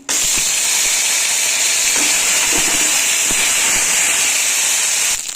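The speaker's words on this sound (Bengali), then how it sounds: "কড়াইতে তেল দিয়ে সাদা জিরে আর একটা শুকনো লঙ্কা ফোড়ন দিয়ে দেবো।" Cumin seeds, a dry red chilli and ginger sizzling in hot oil in a kadai, a loud continuous bright hiss that holds steady throughout with faint pops underneath.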